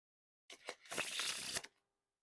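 A deck of blue Star Wars Light Side playing cards is fanned and shuffled, giving a couple of quick flicks followed by a brief, close, crisp riffling burst, alone in quiet.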